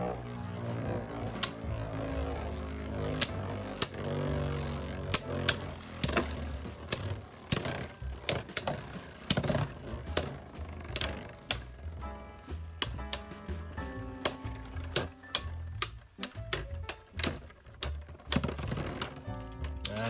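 Plastic Beyblade spinning tops battle in an HMS Tornado Balance stadium. Sharp, irregular clicks and rattling clatter come in quick bursts as the tops collide and scrape, close and fairly quiet, with no voices.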